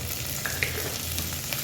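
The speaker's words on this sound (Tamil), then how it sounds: "நல்லா ஃப்ரை ஆகட்டும்." Chicken pulao ingredients frying in a pan give a steady, even sizzle with a few faint stirring clicks, close and moderately quiet.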